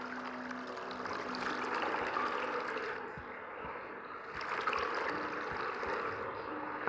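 Soft running water trickles and gurgles steadily in a quiet horror game scene, faint and continuous with no talking.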